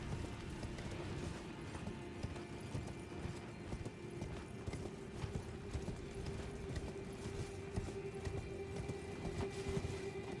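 A horse gallops in Elden Ring with rapid, steady clip-clop hoofbeats throughout, loud and close under a low droning game ambience.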